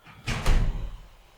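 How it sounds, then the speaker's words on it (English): A door opens or closes with a single short thud and rattle, close and fairly loud, fading quickly into quiet. "Door."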